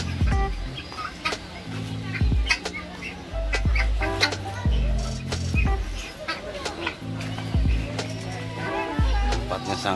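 Poultry, chickens or turkeys, cluck and call repeatedly in a clean enclosure at Central Park Zoo in Pancur Batu, North Sumatra, close and fairly loud amid low thumps, with a person talking at times.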